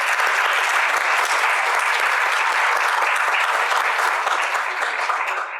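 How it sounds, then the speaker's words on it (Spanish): Sustained applause from an audience at a political event about diverse women in politics, loud and steady throughout after a candidate for local deputy is introduced. "Un gran aplauso."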